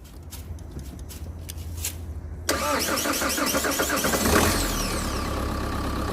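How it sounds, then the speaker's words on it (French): A 2.2 litre diesel car engine cranked with a jump booster: quiet background noises, then an abrupt catch as the engine fires and settles into a loud, steady running rumble. "Voilà, la voiture a démarré du premier coup."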